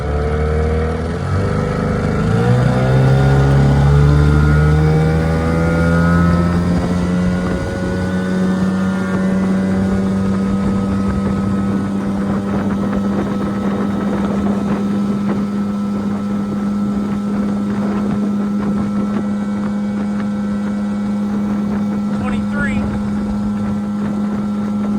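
A motorboat fitted with a new 11-pitch propeller roars up to speed on calm water, its engine note climbing steadily then holding a loud, steady drone with wind rush throughout.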